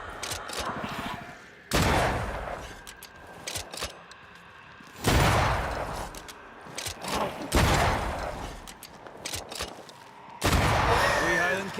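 Gunshots in Banishers: Ghosts of New Eden, several loud sharp blasts spaced a few seconds apart, each with a booming tail, and smaller rustling and clatter in between.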